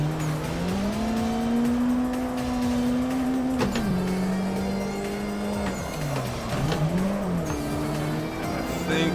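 Sim racing car drifting in Assetto Corsa with the e-brake, engine droning steadily and loud with its pitch shifting across throttle changes, tire squeal layered in, no speech over it.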